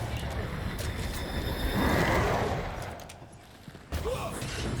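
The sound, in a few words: gunshots at a lantern in video game Banishers: Ghosts of New Eden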